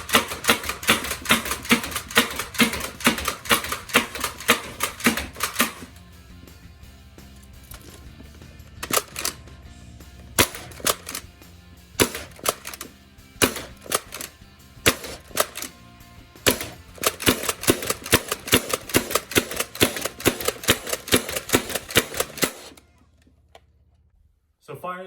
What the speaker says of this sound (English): So firing the Gameface Trion is a blast.